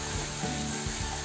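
Palak gravy being stirred as it sizzles in a pan, a continuous loud frying hiss with soft scraping stir strokes, close and uninterrupted, with no voices.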